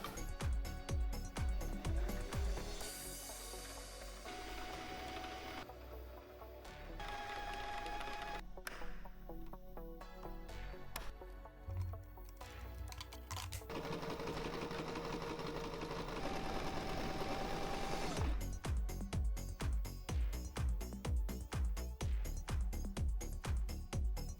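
A sewing machine stitches pinned jacket pieces together in a long, rapid mechanical chatter that starts, slows briefly and resumes in several runs, fairly loud and close, with no talking.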